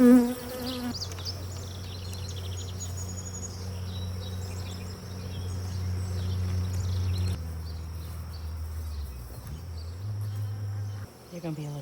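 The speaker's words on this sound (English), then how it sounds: "This hive is always a little defensive." Defensive honey bees swarm around an open hive during a honey harvest, a dense, steady buzzing close by that continues for the whole stretch with a slight drop in intensity near the end.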